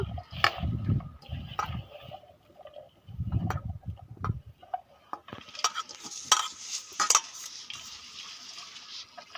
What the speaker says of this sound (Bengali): এখন নুন দিয়ে মাখিয়ে নেব